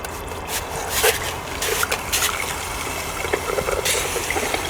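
Water trickling and splashing from a drop water valve at 0.35 gallons a minute in a gold pay dirt processing setup, a steady close-up patter with scattered splashes.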